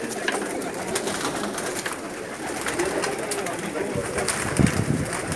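A pigeon coos softly amid dense outdoor ambient noise, with low murmuring voices nearby and no single call standing out clearly.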